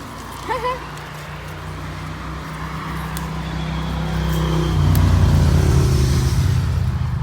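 A car passes along a rural road in the Thai countryside, its engine hum building steadily and peaking loud and close near the end, with a voice speaking briefly early on.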